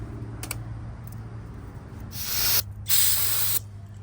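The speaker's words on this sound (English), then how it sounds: "Grab your rag, spray it down, just clean the rest." Two short hissing bursts from a spray can of cleaner, the second longer, after a quiet stretch with a low hum.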